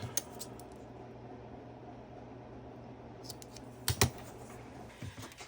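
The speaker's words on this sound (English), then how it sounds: "We're going to just snip off the corners like that" Scissors snip the corners off a paper craft tag, a few small, sharp cuts near the start and a cluster around the four-second mark against a quiet background.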